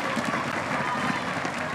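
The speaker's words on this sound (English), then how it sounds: "Everybody clap your hands for the Australia team in Brazil." Crowd applause at a women's beach volleyball semi-final at the Vitoria Open, a steady wash of clapping from spectators, fairly loud and continuous, with a faint announcer's voice blended underneath.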